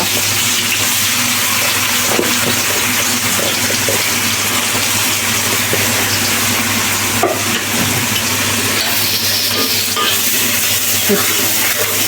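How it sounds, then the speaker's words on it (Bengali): A large batch of onions fries in a pan for a data shak (amaranth stem greens) dish, a loud steady hiss and sizzle running throughout, close by, with occasional clatters of stirring. "অনেকগুলো পেঁয়াজ দিলাম"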